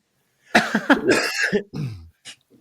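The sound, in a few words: coughing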